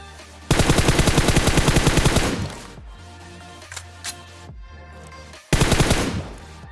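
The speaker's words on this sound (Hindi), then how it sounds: "लेकिन तभी पीछे से फायर आता है इसके टीममेट्स का" Automatic gunfire in PUBG Mobile: a loud, rapid burst of close shots lasting about two seconds, a few scattered impacts and quieter game sounds, then another fast burst near the end.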